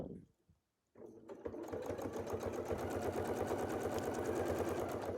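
A sewing machine stitches a quilt along a marked line. One short start is followed by a steady, close, fast needle rhythm that runs without pause to the end.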